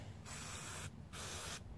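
Cleaner sprays in three short hissing bursts into the carburetor of a Honda GCV 160 self-propelled lawn mower, close and alone, with brief gaps between blasts.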